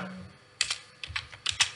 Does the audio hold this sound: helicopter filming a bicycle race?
no